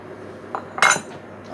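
A whisk starts beating cream with vanilla sugar in a bowl for a rustic apple tart, giving a few sharp metallic clinks against the bowl, close and fairly loud, with quiet gaps between them.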